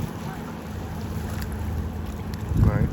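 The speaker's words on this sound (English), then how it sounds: "This is a deck boat." A Sababa 19-foot dual console deck boat with a Suzuki engine runs on the water with a low engine drone, partly masked by wind buffeting the microphone, and grows louder toward the end.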